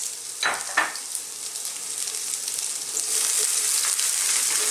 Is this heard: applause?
no